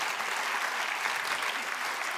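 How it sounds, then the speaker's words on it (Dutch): A studio audience claps on a talk show, with dense, even applause from many hands throughout the short stretch and no talk over it. "Applaus."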